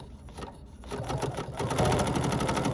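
Bernina sewing machine with a walking foot stitching a straight quilting line, its needle beating in a fast steady mechanical rhythm that grows louder and denser as it runs, close up.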